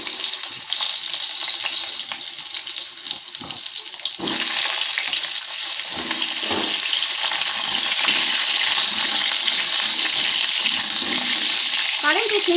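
Washed potatoes drop into hot oil seasoned with bay leaf in a pan and sizzle loudly and continuously, with stirring scrapes and a bright hiss that swells as frying settles in.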